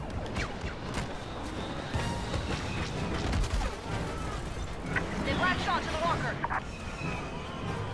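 An AT-AT walker fires in the Star Wars Battlefront video game amid a busy battle soundscape, with booming blasts and scattered weapon fire, while a voice speaks over the din.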